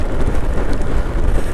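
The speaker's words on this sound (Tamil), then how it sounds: "மழை தூர ஆரம்பிச்சிருச்சுங்க." Steady rain and wind buffeting a motorbike on a mountain ride in Ladakh, a loud, dense rushing hiss with no break.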